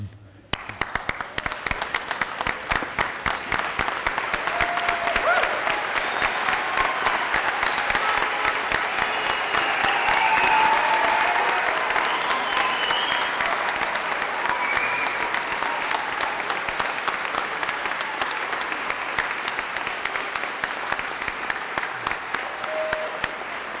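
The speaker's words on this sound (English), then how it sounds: "Hey, everybody, let's get up and applause." A large crowd at a law school graduation claps for a long stretch, loud and dense, with cheering voices rising through the middle before it tapers.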